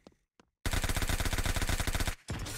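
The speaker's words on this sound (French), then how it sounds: "clic gauche pour tirer, on peut maintenir le bouton pour continuer à tirer." Rapid automatic gunfire in the third-person shooter roguelike Ruindog: after two brief shots, a sustained loud burst of evenly spaced rounds runs about one and a half seconds, then resumes briefly.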